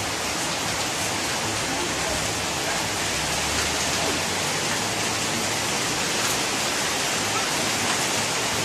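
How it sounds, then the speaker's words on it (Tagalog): Heavy rain pours down steadily onto a garden of plants, a dense, constant hiss of falling water at close range that stays loud and even throughout, with faint speech beneath it. "Og gibundak ang ulan. Medyo kusog-kusog siya."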